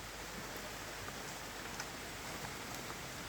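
Rain falls heavily on a London garden in August among swaying trees, a constant broad wash of water with occasional faint drop ticks rising from it, steady throughout and without talk.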